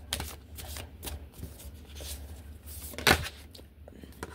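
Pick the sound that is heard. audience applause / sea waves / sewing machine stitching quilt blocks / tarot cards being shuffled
tarot cards being shuffled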